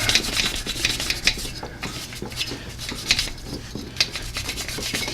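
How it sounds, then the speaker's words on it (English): A wire brush scrubs the corroded wheel hub of a Hyundai Sonata during a front brake job, making a close, continuous rough scraping with irregular louder strokes, and nobody speaks. "I like to wire brush the hub where the wheel meets."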